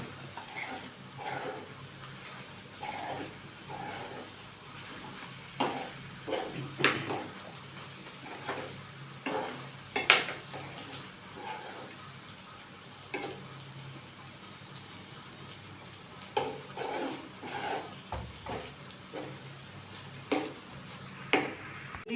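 Beef fry being stirred with black pepper powder in a pan, soft intermittent scrapes and clinks of the spoon over a low sizzle, close but fairly quiet.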